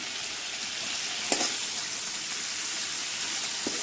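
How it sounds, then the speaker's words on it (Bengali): Whole spices, including cardamom and cinnamon, fry in oil with a continuous crackling sizzle, and a couple of faint utensil clinks sound underneath. "এখন ফোড়নটা একটু আমি অল্প একটু ভাজা ভাজা করে নিই"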